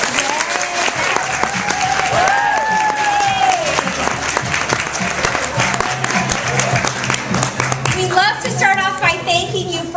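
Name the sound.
audience applauding guests at an event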